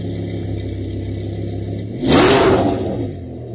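A Lamborghini Gallardo V10 idles steadily, then a single sharp, loud rev surges up for under a second before settling back to a smooth idle.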